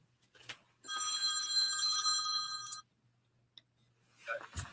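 A telephone rings with a loud metallic bell trill lasting about two seconds, clear and close in an otherwise quiet room, with a few faint knocks and rustles before and after.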